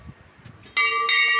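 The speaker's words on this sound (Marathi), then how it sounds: "सो आपण घंटा वाजवूया." A metal temple bell at a Mahadev shrine is struck and rings out clearly, ringing twice in quick succession after a quiet start, its bright ringing tone sustaining loud and close.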